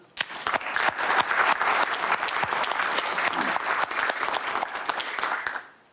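An audience at a city council citizens' report applauds the staff, a dense wash of many hands clapping with sharp individual claps standing out, steady for about six seconds before fading out at the end.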